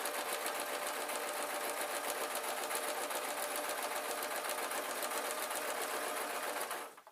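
A sewing machine runs at a fast, even stitching rhythm while sewing a fabric peg bag, close and steady for several seconds before stopping abruptly.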